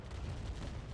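Turrets trade fire in a Command & Conquer Remastered match, a dense, continuous rumble of booming low shots with rattling bursts throughout, loud and steady with no talk.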